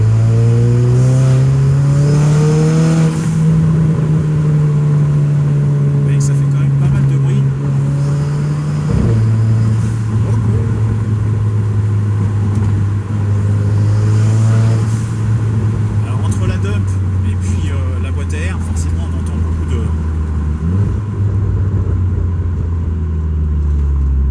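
Renault Clio 4 RS Stage 3 hatchback driven in sport mode, its engine droning steadily and swelling in pitch through gear changes, with exhaust pops under the continuous loud drone while someone talks over it.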